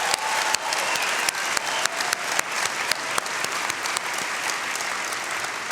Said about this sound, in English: Can we get a round of applause for that race yesterday?